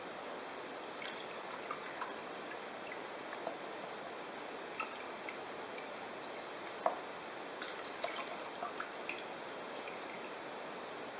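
Water swirls gravel in a gold pan, giving a soft continuous trickle and wash with small splashes and scattered clicks of stones, close and fairly quiet.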